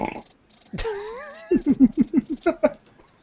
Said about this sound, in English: Somebody get that cricket out of here.